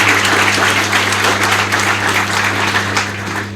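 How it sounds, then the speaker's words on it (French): Audience applause at a training centre ceremony, a dense steady wash of many hands clapping for the full length, loud and continuous, tapering slightly at the end, with a low steady hum beneath. "Il faut encore l'applaudir."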